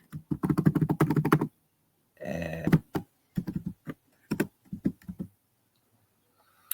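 Someone types on a computer keyboard whose keys are sticking: a quick run of rapid clicks, then scattered single keystrokes and short bursts with pauses, close and clear. A brief word is spoken.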